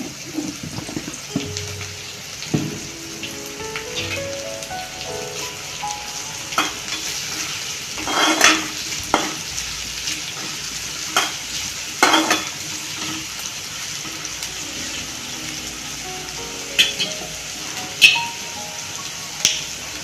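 Chicken curry masala stirred and fried in a pan for a Kerala-style chicken curry, with a steady low sizzle and repeated sharp scraping strokes of the spoon against the pan, no talking.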